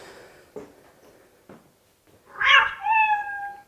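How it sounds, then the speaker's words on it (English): A cat meows from a stepping-spot memory game about animals and their sounds: a single clear, close, fairly loud meow near the end, after a few soft clicks and faint background noise. "Sound of a cat."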